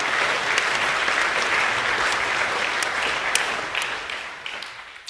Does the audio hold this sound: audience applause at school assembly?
yes